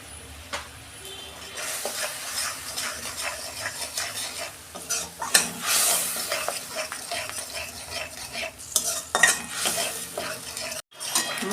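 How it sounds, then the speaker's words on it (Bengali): Salt and Kashmiri chili powder frying in a pan while being stirred, with steady close sizzling, scraping of a spatula against metal, and brief utensil clinks throughout. "মশলাটাকে আমি একটু কষে নিই।"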